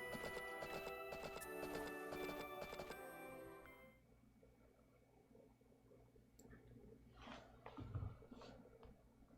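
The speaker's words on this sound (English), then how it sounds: "I didn't realize my horse was right there." Horse hooves clip-clop faintly in the Story of Seasons farming game. Light, quiet clopping steps come under gentle game music that fades partway through.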